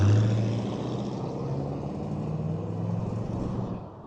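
A 1946 Ford street rod coupe with its engine running, a steady low idling rumble heard close and fairly quiet, smooth and even, fading slightly at the end with no voices.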